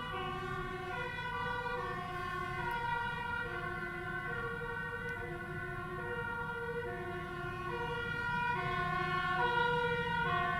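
Electronic ambulance and police sirens from a MEGA65 computer game, stacked tones alternating high and low in a steady two-note wail that holds at moderate level throughout, with no talking.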